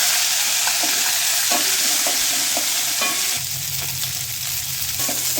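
Dried red chillies and onions fry in a hot pan with cumin and green chillies, giving a steady, close sizzle with occasional scraping stirs and no speech.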